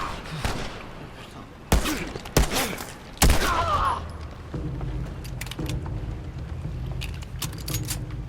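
Gunfire in The Last of Us Remastered, several sharp loud shots in the first four seconds, then quieter scattered pops and clatter over a low rumbling background.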